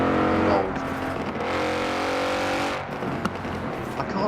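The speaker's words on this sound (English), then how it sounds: "You can kind of hear the old AMG noise in here" An old AMG-style car engine in Forza Horizon 4 roars loudly and continuously, revving and shifting with a throaty growl, a brief tire-like squeal and faint voices underneath.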